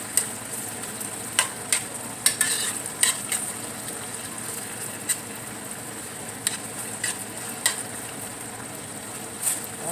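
Minced garlic sizzling steadily in a pan for cheeseburger mac and cheese, with a constant frying hiss broken by occasional scraping taps of a utensil stirring, close and moderately loud.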